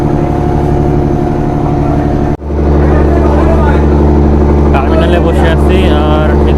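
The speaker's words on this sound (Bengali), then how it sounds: "এই সময় একটা লঞ্চ চলে আসলো এটা ঢাকা থেকে আসলো ঢাকা যাচ্ছে ঢাকা এটার নাম হচ্ছে ইমাম হোসেন টু" The passenger launch Imam Hossain 2, bound for Dhaka, drones loudly and close with a constant heavy engine rumble and humming overtones, broken by one brief dip, with faint voices in the background.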